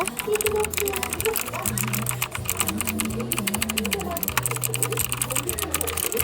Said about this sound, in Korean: 그 다음 컴퓨터 키보드 소리 들어보도록 할게요